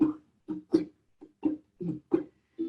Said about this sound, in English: We're going to strum and then we're going to knock together.